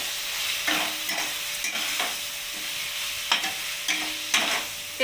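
Spice paste with coriander powder, ginger and garlic being stir-fried for a coriander chicken dish, an even sizzle punctuated by about half a dozen sharp spatula strikes and scrapes on the pan, close-up with no voices.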